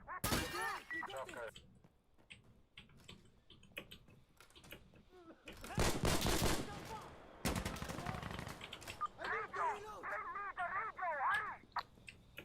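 Gunfire in Insurgency: Sandstorm, with a loud dense burst of shots in the middle and scattered cracks before and after, while someone talks over much of it.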